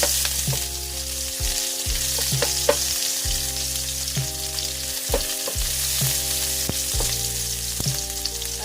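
Cooking oil sizzles steadily in a pan ready for sautéing garlic, with occasional clinks of a utensil against the pan over a continuous hiss; a simple vegetable and pork dish.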